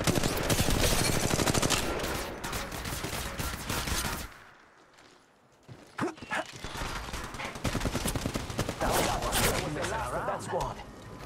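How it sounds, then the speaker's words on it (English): Gunfire rattles in Apex Legends Mobile, rapid bursts of shots for about four seconds, a short lull, then more scattered and sustained firing, with voice lines from the game breaking in between. "Shots fired at me."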